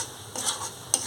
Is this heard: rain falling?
no